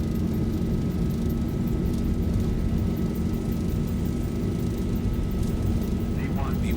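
Airliner engines roaring through a takeoff roll in the X-Plane 12 flight simulator, a dense steady rumble with a faint tonal whine and a brief chirp near the end, no speech heard.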